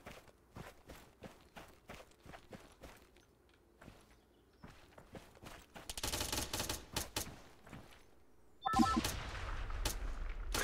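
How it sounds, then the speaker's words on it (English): Gunfire in the video game Exile: soft footsteps tread along first, then loud bursts of rapid shots break out, fading briefly before a heavier, sustained volley erupts near the end. "There's gunfire right from in here somewhere."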